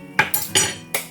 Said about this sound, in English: I'm just seriously taking a spoonful of butter.